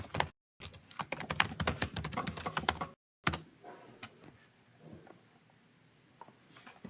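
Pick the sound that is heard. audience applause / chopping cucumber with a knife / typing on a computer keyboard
typing on a computer keyboard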